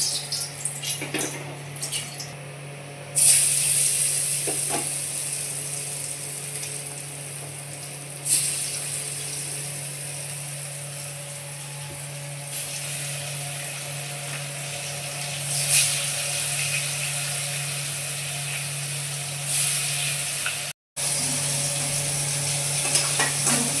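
Fish seasoned with salt and turmeric frying in smoking-hot mustard oil, a continuous sizzle with occasional stirring clatter and what sounds like running water nearby, with no talk.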